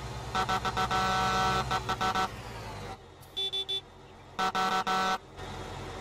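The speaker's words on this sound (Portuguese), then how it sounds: "então é a buzina" Loud horn honks from a Fendt Rogator sprayer in Farming Simulator 19, in repeated bursts, a long blaring stretch then short toots, over a steady engine hum with no talking.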